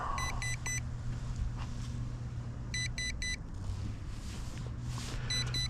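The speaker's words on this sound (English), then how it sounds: "Something beeping" A toy drone lies on the ground after a crash landing, giving off repeated high electronic beep bursts in short clusters over a steady low motor-like rumble.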